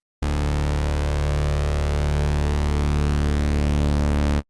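A dense, sustained synthesizer chord of layered tones holds steady at even loudness for several seconds, then cuts off cleanly.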